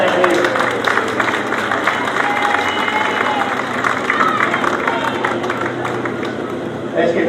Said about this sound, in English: Let's give Andy a cheer in blue for his birthday